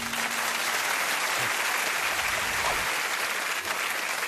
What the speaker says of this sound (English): That sound of the applause there is what you're looking for tonight.